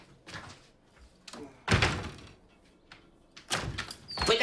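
Door in a house being pulled and closed, a series of loud thuds and sliding scrapes in separate bursts, close by with no talk over them.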